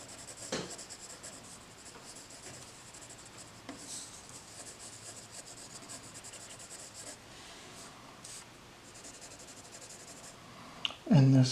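Pencil drawing hair on paper, a steady soft scratching and rubbing of graphite in continuous strokes, faint and close, with a brief louder knock at the very end.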